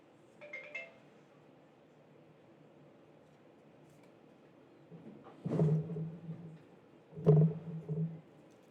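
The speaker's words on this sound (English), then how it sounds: "this alarm stays going off." A phone alarm sounds in two short bursts a couple of seconds apart, each a loud electronic tone that rises from a quiet, steady background.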